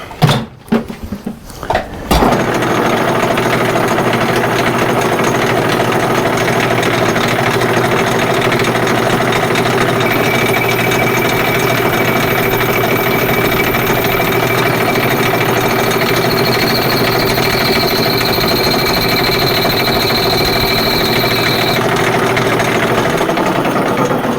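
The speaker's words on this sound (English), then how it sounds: "on a lathe is really the only way to get certain things perfectly straight" A metal lathe starts up with a clunk and then runs steadily while a tensioned rifle barrel is being straightened, a loud continuous motor hum and whine with faint high tones, no speech.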